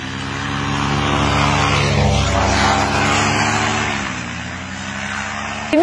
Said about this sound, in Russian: Приделал себе пропеллер и поехал в гору.